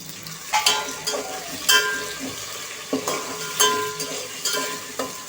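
Finely chopped tomato hits browned onions in a pan, giving a steady sizzle punctuated by repeated spatula scrapes and stirring clatters, close and fairly loud with no talking.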